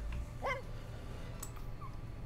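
A dog in The Sims 4 video game lets out a single short bark or yip, faint and brief, over a quiet background hum.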